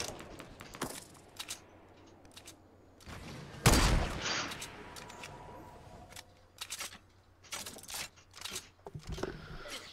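Video game gunfire, scattered bursts of shots and one loud blast near the middle, with clicking and clattering between volleys, fairly close and without speech.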